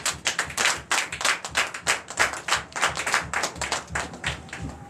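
A congregation at a Sunday worship service in Benin claps in acclamation, with a few hands striking in a quick, uneven rhythm of sharp individual claps at close range.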